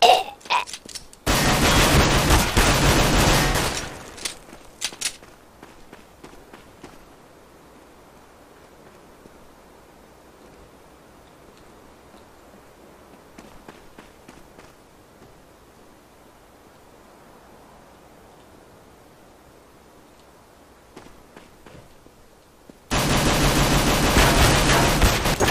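Gunfire in Counter-Strike: Global Offensive from an unsilenced weapon: a dense, loud burst of rapid shots for a few seconds, then quiet background, and another loud burst of firing at the very end.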